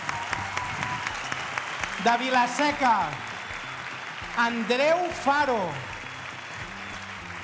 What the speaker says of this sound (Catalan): Andreu Alfaro, un gran aplaudiment,